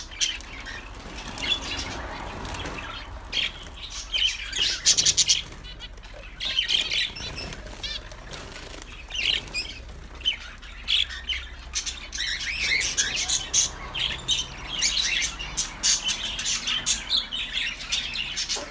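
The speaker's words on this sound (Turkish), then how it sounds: "Her yerde önce bir muhabbet kuşları." Pet shop budgerigars fill the air with dense, overlapping chirps, squawks and wing flutters, a busy nearby flock sounding continuously.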